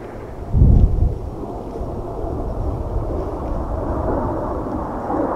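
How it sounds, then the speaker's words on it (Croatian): Aircraft fly overhead at an outdoor shooting spot with a Czechoslovak vz24 Mauser rifle, heard as a low, distant, continuous rumble after a single loud thump near the start. "Avioni lete neki."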